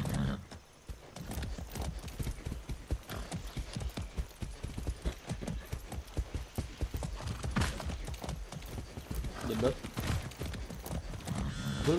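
Horse hooves clip-clop steadily and loudly in the video game Far Cry 6, a continuous rapid rhythmic trot close up, with a brief neigh-like snort and game sounds mixed in.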